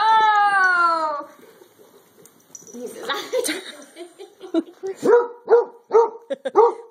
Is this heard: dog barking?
yes